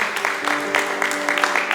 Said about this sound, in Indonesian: Tepuk tangan untuk Tuhan, yuk.